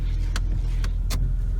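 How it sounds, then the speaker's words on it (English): Windshield wipers on an Audi A4, freshly freed after being seized, sweep back and forth at a steady pace, each pass a brief swish over a constant low car hum. "It just goes to show you the power of the Audi wiper blade motor."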